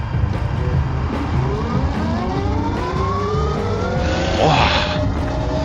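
An ecooter E5 electric scooter accelerates, its motor whine rising in pitch through several sweeping tones like a siren, over road and wind noise, fairly loud and close.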